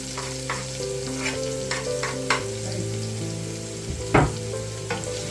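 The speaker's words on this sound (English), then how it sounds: "Put in the shallot like that." Shallots sizzling in hot oil in a pot over lowered heat, with a spoon scraping and stirring in short strokes and one louder knock near the end, close and steady.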